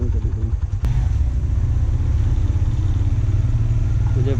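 A motorcycle with a bent tyre rides a mountain road in Swat Valley, its engine a loud, steady close-up drone mixed with heavy wind rush and a brief clatter near the start.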